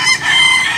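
Fighting roosters crow loudly and nearby at a cockfighting market in Tabunok, Cebu, a brief burst of overlapping calls.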